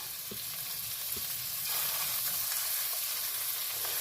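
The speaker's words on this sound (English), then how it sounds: "I got about a pound of scallops here, closer to here. And I'm just searing them" About a pound of scallops, some cut in half, sear in a hot pan with a steady soft sizzle and a couple of light clicks near the start, heard close and alone.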